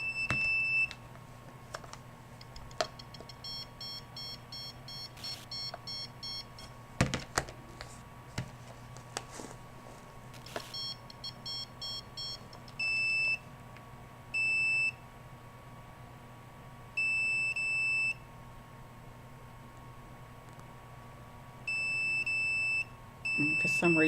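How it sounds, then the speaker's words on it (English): Repeated electronic beeps from a detector alarm going off indoors, sounding in short bursts and longer sustained tones over a steady hum, with light talk and handling noises. "So that's this detector going off"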